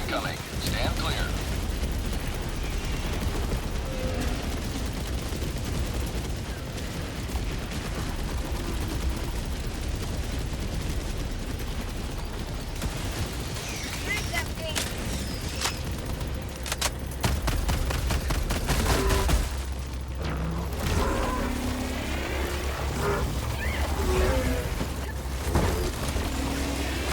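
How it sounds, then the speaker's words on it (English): Orbital barrage explosions pound across a battlefield in the Helldivers video game: rumbling booms and bursts of fire, sustained and dense, with voices talking over the blasts. "Orbital barrage incoming."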